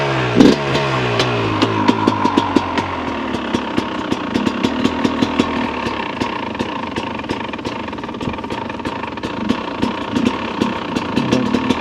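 A Shreco 300 SE engine idles close by with a steady, rapid, uneven chugging rhythm throughout, loud and alone without talk.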